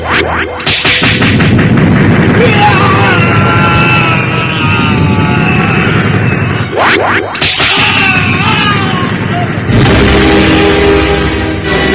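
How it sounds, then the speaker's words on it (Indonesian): A whip crack rendered as a series of loud, crackling booms and sharp blasts over a dense rumbling bed, with bright bursts recurring across the clip like heavy explosions. "cambuknya pun telah terayun dan terdengar suara ledakan yang dahsyat"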